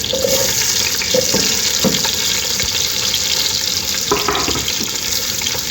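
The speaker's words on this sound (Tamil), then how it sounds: "வெங்காயம் ஓரளவு வதங்கிருக்கு" Onion, curry leaves and green chili sauté in a pan for a bitter gourd and bottle gourd poriyal, giving a loud, steady sizzle with a few faint clinks and no talking.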